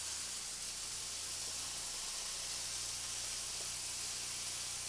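Chicken cutlets sauté in a hot pan with a steady, dense sizzling hiss that holds evenly throughout, close and continuous with no voices.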